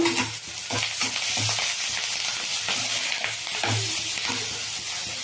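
Curry leaves hit hot oil for brinjal chutney, and a steady crackling sizzle follows, up close, with intermittent stirring and scraping in the pan.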